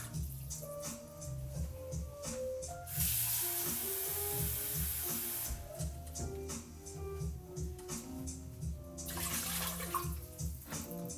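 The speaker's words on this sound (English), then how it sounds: "Just going to throw in about 2 cups of water." About two cups of water pour steadily into a pot for steaming broccoli, a continuous splashing flow that shifts in pitch as the pot fills, with a brief louder gush partway through.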